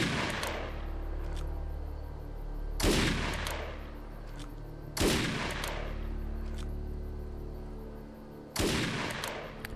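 Gunfire aimed at enemies in the Defiance video game on PS3, three heavy blasts spaced a few seconds apart, each sharp and loud with a long rumbling decay.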